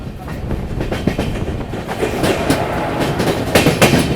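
Heard from aboard the Panvel to Gorakhpur Express as it overtakes the Jammu Mail, a train rumbles loudly with rhythmic wheel clatter over the rails, dense and continuous throughout.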